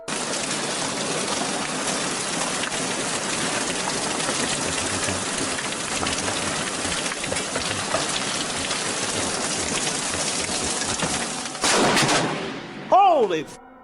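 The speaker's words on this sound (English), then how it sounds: "Here's why you should never look down during a hailstorm." A hailstorm pelting hard surfaces outdoors, a dense loud rattling clatter of countless impacts sustained throughout, ending in a sharp burst near the close.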